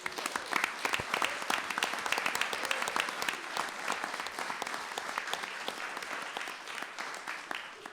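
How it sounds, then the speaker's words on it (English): Warm, sustained applause for parents at a town board of selectmen meeting in Wilmington: many hands clapping in a dense, even patter at moderate volume, a little stronger at first and then steady. "Your parents, we got to give them a nice big round of applause."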